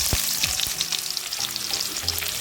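Onion sizzles in a pan with popping mustard seeds, a dense, continuous crackle heard close up and unaccompanied.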